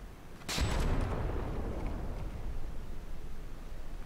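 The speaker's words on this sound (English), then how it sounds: "Will our big bad cannon fire again?" A CRAM cannon in From the Depths fires a single loud, deep boom that rolls into a long, fading rumble, with no other sounds around it.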